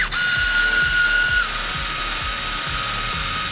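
A loud, steady high-pitched mechanical whir of a power drill pumping differential fluid into a Nissan 240SX, with a repeating rhythmic ratcheting pulse underneath, close by and continuous, dropping slightly in pitch partway through.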